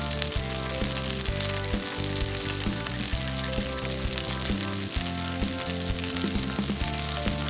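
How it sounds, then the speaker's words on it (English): Eggs fry on a layer of pesto with red pepper flakes in a pan over medium heat. The sizzle is steady and close, a dense crackle and hiss that runs the whole time with no talk. "we're gonna go ahead and add in the pesto and then cook our eggs on top of that"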